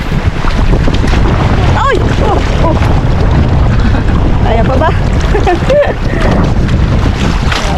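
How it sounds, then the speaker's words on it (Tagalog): Big waves and gusty wind pound a boat in rough weather, a loud continuous roar with heavy wind buffeting the microphone while people call out briefly. "Grabing alon, oh."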